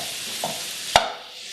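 Sausage pieces sizzle in a pan, with a soft scrape and one sharp clack of a spoon being stirred through the bits, close and fairly quiet.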